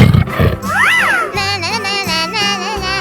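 A cartoonish tiger roars in a 3D animal sliding video game, a rising and falling growl over bright, bouncy game sound, loud and close.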